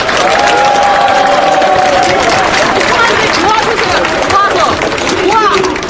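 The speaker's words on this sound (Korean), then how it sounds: "우리의 의지를 굳세게 해줄 율동팀을 여러분의 힘찬 박수로 다시 한번 환영해 주시기 바랍니다" Outdoor crowd at a Korean political rally clapping and cheering to welcome a dance team, loud and continuous, with shouting voices and babble layered through the applause.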